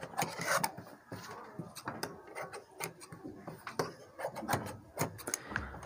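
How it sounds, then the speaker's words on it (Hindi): Scissors trimming extra fabric from around a blouse pattern, a steady run of soft snips and rasping rubs close by, with no talk. "अब यहाँ पर हमने एक्स्ट्रा कपड़े को कटिंग कर लिया है।"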